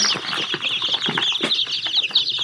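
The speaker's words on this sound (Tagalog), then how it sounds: "Tingnan natin yung mga sisiw." Many chicks peep in a dense, continuous chorus of high, overlapping chirps, loud and close throughout, with occasional low clucks and rustling beneath.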